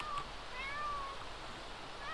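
Kitten meowing in The Sims 4, a few high, wavering meows close up over steady game ambience, with no talking.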